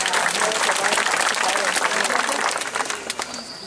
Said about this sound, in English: How about a nice big round of applause for Jessie,